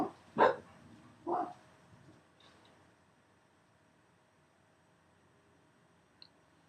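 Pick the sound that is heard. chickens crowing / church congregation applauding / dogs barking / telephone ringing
dogs barking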